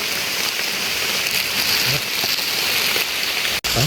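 Steady rain pours down in a forest, a dense, even hiss of drops hitting leaves and ground all around, loud and continuous.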